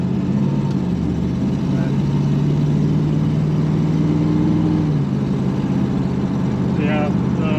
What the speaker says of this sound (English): Sounds like we might have a little exhaust leak On maybe the passenger side.